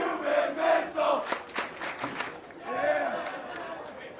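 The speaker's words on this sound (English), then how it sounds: "So that's the Phoenixville crowd." Fans at a Phoenixville baseball game shout and cheer in short bursts, a spirited crowd chant rising and falling with scattered claps, heard at moderate distance with some voices mixed in.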